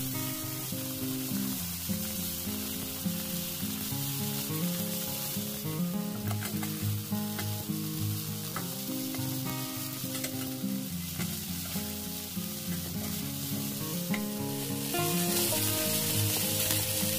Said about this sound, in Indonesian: Masukkan sayap ayamnya dan goreng sampai kedua belah sisi sedikit kecoklatan.